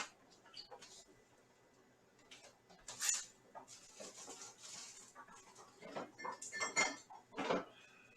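Ceramic bowls and metal utensils clatter and clink close by in a home kitchen while a bowl is fetched for veggie meatball noodles, in several bursts of rattling, with soft talk mixed in.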